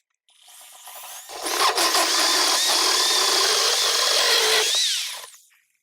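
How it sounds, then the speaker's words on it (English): A power drill bores a hole through a countertop for a Bevi console installation, running loud and steady for about four seconds with a whining pitch that shifts near the end before spinning down. "and then we're going to start to drill it"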